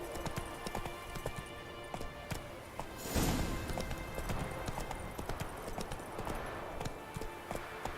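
Roach the horse gallops in The Witcher 3 video game, a steady run of hoofbeats under a continuous wash of game ambience, swelling into a louder burst near the middle.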